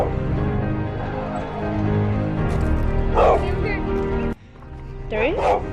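Several dogs bark in short, sharp bursts at close to moderate distance, mixed with excited people talking over a steady background hum.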